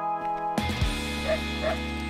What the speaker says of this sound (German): haben Sie zufällig einen kleinen braun-weißen Hund in der Nähe gesehen?